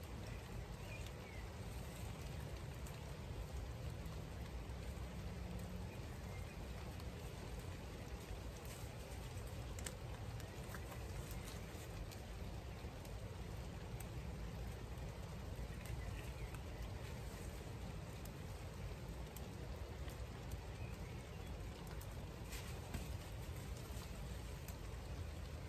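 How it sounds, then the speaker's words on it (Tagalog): Steady rain hisses down in a backyard, a constant soft wash of drops that holds evenly throughout with no talking. "Maulan, maulan."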